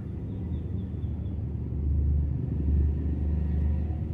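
A Mitsubishi Canter truck diesel engine, a Euro 2 or Euro 4 unit rated at 136 PS, idles steadily up close with a deep, continuous low rumble that swells slightly louder midway through and has no talk over it.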